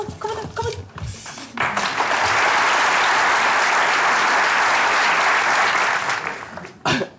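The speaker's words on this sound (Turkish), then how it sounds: "beni alkışlıyorlar" A studio audience at a Turkish comedy stage show bursts into loud, sustained applause with some cheering, rising after brief voices and clatter and holding for several seconds before fading.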